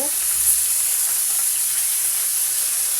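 Food frying in a pan, a steady bright hiss of hot oil sizzling close up, even and continuous with no distinct stirring strokes.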